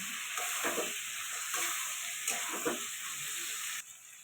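Pre-fried potatoes being stir-fried with spices alongside pointed gourd and prawns, a soft, steady sizzle broken by repeated spatula scrapes, quieter toward the end.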